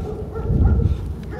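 A dog lets out a low, muffled bow-wow vocalization, close by, swelling in the middle and then fading, with no talking over it.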